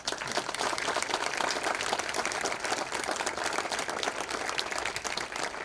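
Sustained audience applause at a Romanian traditional music ensemble performance, dense and steady clapping from a crowd throughout without a break.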